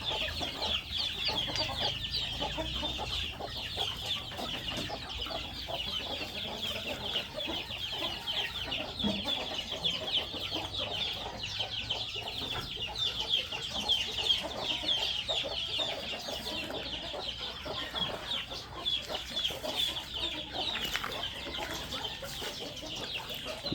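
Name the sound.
chickens clucking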